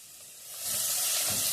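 Onion and garlic browning in a pan with ground beef, a steady close sizzle and crackle that swells louder after the first half second and keeps hissing without talk.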